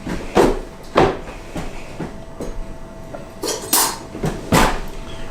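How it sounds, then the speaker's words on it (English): A spoon scrapes and clinks against a pot while salt is stirred into water, a series of irregular metallic knocks and scrapes close by. "Give that a quick little stir"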